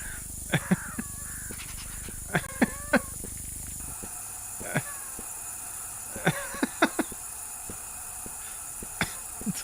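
Crows caw repeatedly in a horror bird-watching video game, harsh calls arriving in short clusters of two or three over a steady ambient hum, fairly clear and close.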